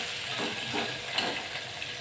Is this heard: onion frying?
yes